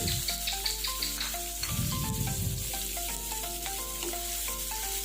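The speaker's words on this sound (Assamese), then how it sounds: "এইখিনি অকণমান টাইম ভাজি ল'ব লাগিব, অকণমান ৰঙচুৱা হোৱালৈকে ভাজিম।" Chopped onions sizzling steadily in a pan of oil with whole spices, stirred so a louder burst of frying rises midway, continuous and close beneath soft background music.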